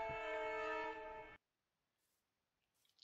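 A train horn, heard through a recording played back from a video, sounds as a loud sustained blast for over a second and then cuts off abruptly, leaving only faint background noise.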